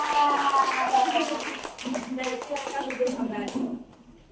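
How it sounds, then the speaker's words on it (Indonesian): A classroom of students claps for a group after its presentation, a loose burst of hand claps mixed with overlapping voices and chatter, tapering off near the end. "Tepuk tangan untuk kelompok 1."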